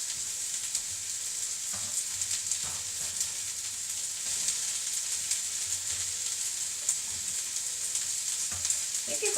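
Chopped pepper and spring onion sizzle steadily in a hot frying pan for sweet and sour chicken, a constant close crackle with faint stirring scrapes and no talking.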